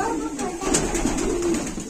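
Soft, low pigeon cooing close by, throaty murmuring calls repeating against faint background noise.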